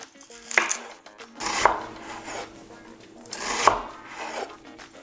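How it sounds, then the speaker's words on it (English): A knife slices and chops two onions on a wooden board, a few rough rasping strokes and dull taps spaced a second or two apart, close and moderately loud. "First bit of prep work we're going to do is to thinly slice and then chop the 2 onions"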